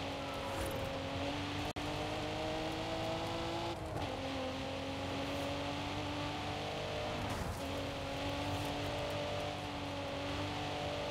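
A car driving in Forza Horizon 5 during a cops-versus-racer multiplayer session on winding roads, its engine holding a steady loud drone with gear shifts and small pitch changes, plus one sharp bump.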